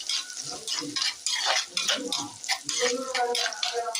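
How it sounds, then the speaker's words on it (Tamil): Onions sautéing in a pan for a spicy country chicken curry, bright crackling sizzle with uneven bursts as they are stirred, close and fairly loud, with a voice faintly under it. "வெங்காயம் நல்லா வதங்கட்டும்."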